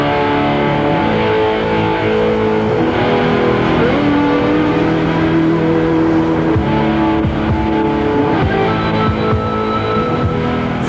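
A Rover 800 with a 2.7-litre V6 engine drives along, its engine note rising and falling through gear changes under a steady road roar, loud and close with no talk.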